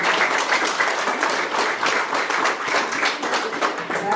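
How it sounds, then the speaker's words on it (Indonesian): A crowd at an Indonesian community gathering in Papua applauds steadily, a dense, even clapping that fills the whole stretch with no voices over it. "Tepuk tangan mana?"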